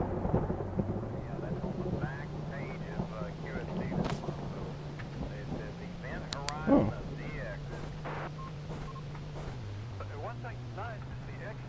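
Thunder rumbles over a steady low hum in the horror video game Black Butterfly. A sharp crack near the middle is followed by rolling noise, with a voice talking now and then.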